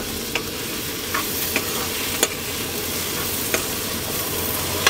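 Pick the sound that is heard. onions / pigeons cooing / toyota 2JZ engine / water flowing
onions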